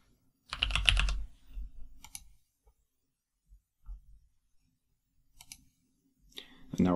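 Short, scattered bursts of computer-keyboard keystrokes as a version number is typed, with quiet pauses between the clusters of clicks.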